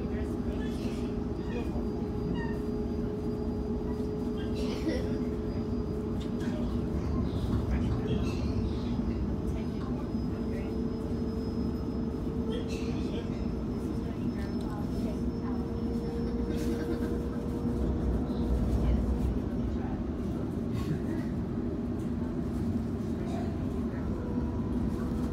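A Sydney Trains Waratah A set electric train running from Blacktown to Parramatta, heard from inside as a steady low rumble with a faint whining motor tone, continuous and fairly quiet.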